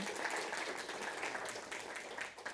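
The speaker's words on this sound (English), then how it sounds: "let's give a round of applause to Brittany" A small audience applauds at a book event, a soft, steady patter of clapping heard at a distance and fairly faint.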